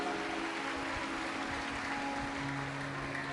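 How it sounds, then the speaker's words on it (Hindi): A large crowd at a live Shiv Mahapuran religious discourse claps loudly and steadily in welcome of Lord Ganesh, a dense continuous wash of applause over a hall's sustained tonal hum. "जोरदार ताली बजाकर स्वागत करें गणेश जी का"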